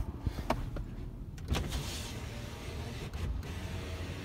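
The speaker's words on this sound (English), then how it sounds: "Window works as it should." Power window motor on a 2008 Toyota 4Runner SR5 4x4 running on its own for several seconds, a steady close whir inside the cabin with a few small clicks at the start and end.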